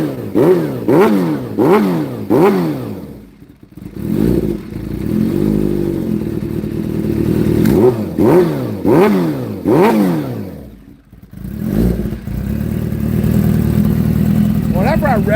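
A new motorcycle engine revs repeatedly, loud and close, with rising and falling pitch sweeps in short bursts and brief drops to idle between them.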